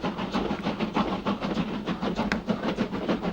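A passenger train in 1980s-era period drama running on rails, steady rhythmic clickety-clack of wheels over joints with a continuous rumbling hiss, heard close and moderately loud with no talking.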